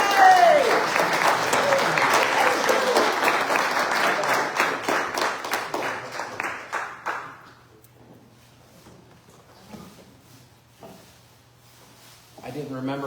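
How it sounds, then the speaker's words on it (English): An audience at a service applauds the speaker with dense, lively clapping that thins into a few scattered claps and fades to near quiet, before faint sounds return at the end. "let's give him a big round of applause"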